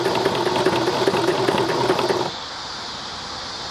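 A Dressmaker 100 sewing machine runs steadily with a fast mechanical whir and rattle, then stops abruptly after about two seconds, leaving only faint background hum.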